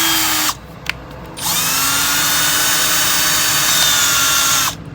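A cordless drill runs in two bursts, a short whir that spins down, a pause with a couple of clicks, then a longer steady high-pitched run that stops abruptly, loud and close.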